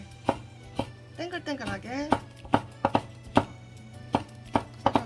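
A knife chopping chili peppers into rounds on a cutting board, sharp evenly spaced thumps close by, with a voice speaking briefly in the middle.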